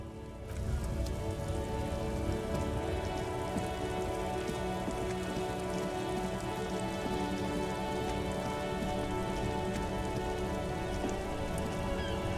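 Steady rain patters densely on surfaces in the video game Disco Elysium, a constant close hiss of drops with low ambient rumble, with no voices.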